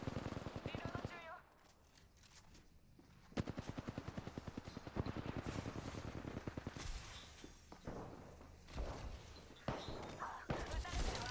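A battle royale video game firefight in which rapid bursts of automatic gunfire crackle repeatedly, with shots and in-game voice callouts layered over the fast, loud volleys and brief pauses between bursts.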